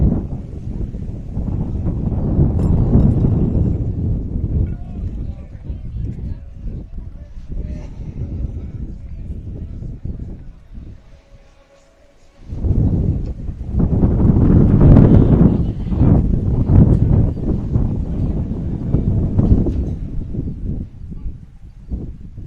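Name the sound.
big gust of wind on a baseball field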